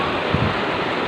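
A river at Tignoan in Real Quezon, its flowing water a steady broadband rush heard close and fairly loud, with no talk over it.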